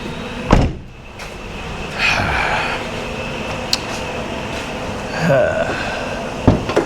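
A car hood is unlatched and popped open, with a few sharp clunks and thuds from the latch and panel spread over several seconds against a steady low background rumble. The hood's gas struts are worn out.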